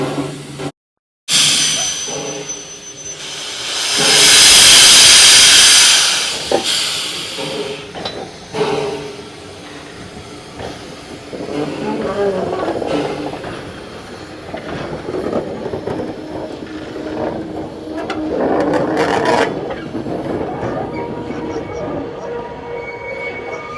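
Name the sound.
steam locomotive hissing on turntable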